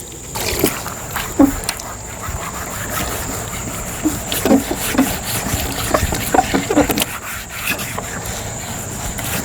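Hot water washes a long-neglected old Porsche, unwashed for 33 years, with steady spray hiss, splashing and rubbing, and occasional faint talk underneath.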